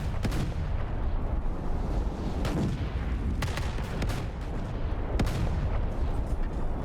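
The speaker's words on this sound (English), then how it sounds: "the double torpedo hit" Heavy explosions and booming naval gunfire from a Roblox Naval 1945 battle, a continuous rumbling barrage with several sharp blasts standing out, loud and dense with no talking.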